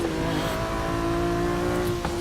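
A 1979 R-Class racing car in Forza Motorsport 6 holds a loud, steady high-revving engine drone throughout, close and alone.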